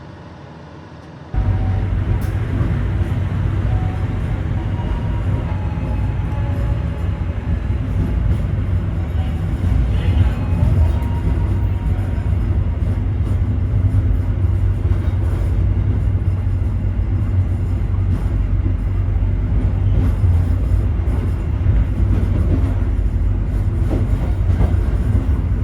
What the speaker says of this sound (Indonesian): Lagi ada kereta Pleasure di situ.